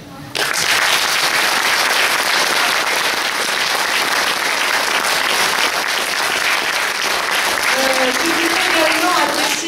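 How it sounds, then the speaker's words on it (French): Thunderous applause from a theatre audience for an amateur troupe after a show, a loud, dense, sustained roar of clapping starting abruptly and holding for nearly ten seconds, with faint voices emerging near the end. "Un tonnerre d'applaudissements à toute cette troupe qui a mis tout son cœur pour assurer ce beau spectacle"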